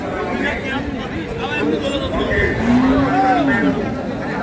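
Cattle low at an outdoor livestock market, with one drawn-out moo from a Sahiwal, Sindhi or local-breed dairy cow rising above a steady murmur of voices and background chatter.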